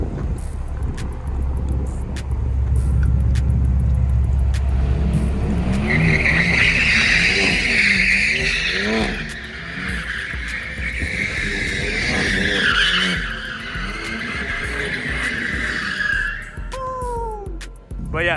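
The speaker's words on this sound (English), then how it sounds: "The boys warming up the tires." BMW G80 M3 and G82/F82 M4 cars spinning their tires on a San Francisco street, sharp squealing skids rising and falling over several seconds amid engine rumble, fairly close and loud, with no talk.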